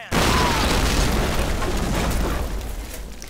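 A grenade blast destroying a flak cannon in the war video game Men of War: one loud, close explosion that booms and rumbles, then slowly fades over about three seconds.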